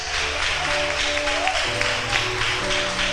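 Church congregation applauding during a service, a steady, dense wash of clapping from many hands that holds for several seconds, with sustained organ or keyboard tones beneath.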